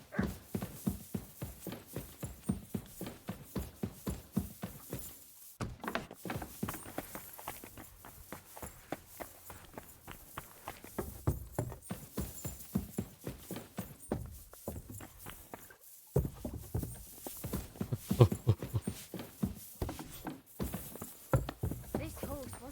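Horse hooves clip-clop in a steady walking rhythm in a video game across the whole stretch, with brief pauses and a few spoken remarks.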